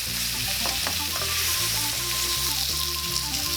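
A boneless chuck roast searing in a hot pan, a dense, steady sizzle close up with faint clicks, running throughout without talk.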